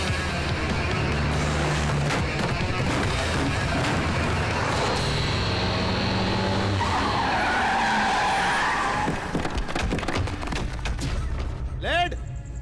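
A car turns hard and skids with squealing tires in an action film fight scene, the screech sustained and loud over busy background noise, with a sharp metallic ring near the end.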